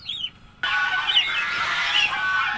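A goose honks loudly and close, a harsh, sustained nasal call after a brief quieter cry at the start, with no talk.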